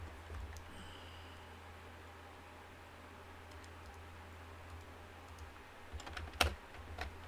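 Soft, faint typing on a computer keyboard over a low steady hum, with scattered quiet key clicks and a brief louder burst of keystrokes near the end, no one speaking.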